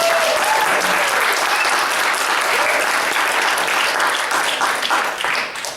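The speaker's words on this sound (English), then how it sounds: "Can we give her a round of applause," An audience applauds Peg at a poetry reading: dense, even clapping from a room full of listeners that stays strong for several seconds, then thins and fades at the very end.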